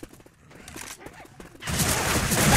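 Shotgun gunfire in Left 4 Dead 2 in a city setting: after quieter game ambience with some talk, a loud sustained burst of heavy blasts and chaotic firing takes over the second half.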